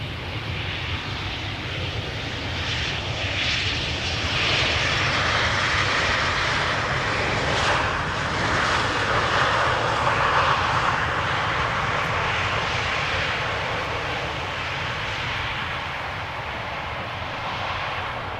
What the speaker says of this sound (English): This is Air France Air Baguette arriving from Paris Charles de Gaulle